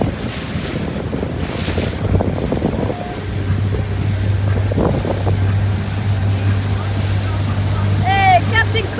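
A boat moves across Lake Hopeka with strong wind buffeting the microphone, a steady engine drone underneath and water washing against the hull, all loud and close.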